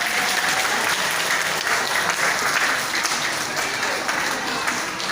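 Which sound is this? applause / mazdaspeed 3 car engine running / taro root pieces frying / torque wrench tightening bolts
applause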